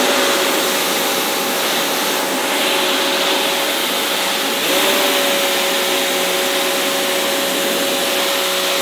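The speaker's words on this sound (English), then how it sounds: "So I'm using the 40 degree nozzle right here because I don't want it to be super abrasive to the paint." A Wholesun pressure washer with a 40 degree nozzle sprays painted house siding, a loud steady motor whine with a continuous hissing rush that holds unbroken throughout.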